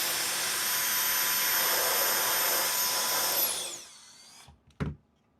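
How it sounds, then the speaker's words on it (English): An air blower cleans dirt off a laptop circuit board, a loud, steady rushing whoosh that spins down over about a second, followed by a single sharp click. "Let me get my air blower and I'll see if I can blow it off"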